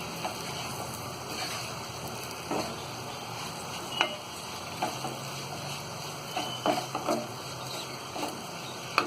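Spiced potato and cauliflower sabzi, dhaba-style aloo gobhi, being stirred in a pan, with soft scraping and faint sizzling over a steady background hiss.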